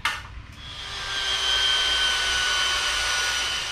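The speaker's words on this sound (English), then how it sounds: "Let's go ahead and punch those and do some drilling." A drill bores holes in a machine part for a Z axis knee gear modification, spinning up after a brief knock into a sustained whining drone close by.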